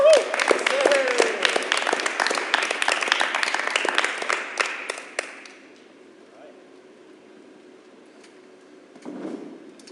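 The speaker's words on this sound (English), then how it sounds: "let's give Coleman another round of applause" An audience applauds Coleman at the close of a live-streamed presentation, a loud burst of crowd clapping that fades out after about five seconds, followed by near silence and a brief murmur at the end.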